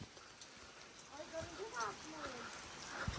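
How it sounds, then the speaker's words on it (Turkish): Heavy rain falls on a rural village greenhouse, a dense, steady patter of drops on surfaces close by, with faint voices and a few brief knocks. "Çok yağmur yağıyor."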